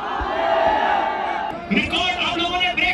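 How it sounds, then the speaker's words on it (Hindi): A crowd roars and cheers at a meetup with a singer at Governor House, with a voice carrying over a sustained drone of shouting before louder whoops break out in the second half. "मैं आप लोगों के भरपूर शोर और भरपूर तालियों में बोल रहा हूँ"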